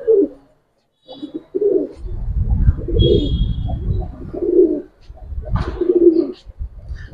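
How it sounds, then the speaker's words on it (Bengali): A male giribaz pigeon, a silver gribaz, coos in repeated low throaty phrases close by, with short pauses between the calls and a few faint chirps above them. "প্রচুর ডাকে নটটা"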